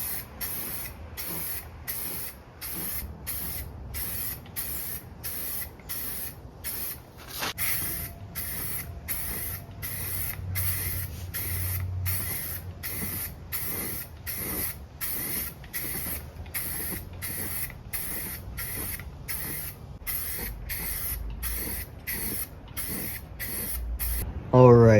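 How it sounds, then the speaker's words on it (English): Short spray-can bursts repeat steadily as a Jeep TJ skid plate and transmission mount get painted on jack stands, each hiss near and crisp with brief gaps between, over faint background rumble. "let's get it on some jack stands and spray paint it."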